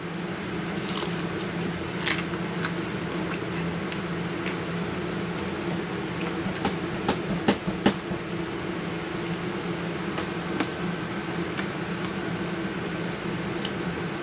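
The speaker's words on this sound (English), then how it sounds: "let's see if you can hear the crunch" Crisp fried food coated in a Louisiana-style fish and chicken fry mix is bitten at a lakeside campground, giving a few sharp crunches over a steady background hum.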